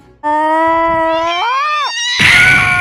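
A drawn-out, wavering cat meow rises, bends in pitch, then breaks into a harsher, brighter yowl; loud and close, with no other sounds.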